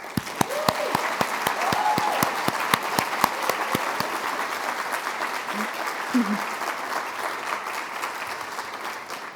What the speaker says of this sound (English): Please join me in a round of applause for Ra again.